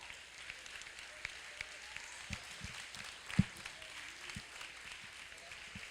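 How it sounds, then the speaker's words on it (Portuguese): A church congregation applauds during a sermon, with scattered, faint claps and a few sharper hand strikes over a low, steady room murmur. "Vamos dar uma salva de palmas para Jesus?"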